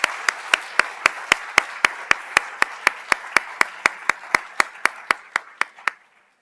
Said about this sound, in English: Please join me in giving a warm round of applause to our newest board members.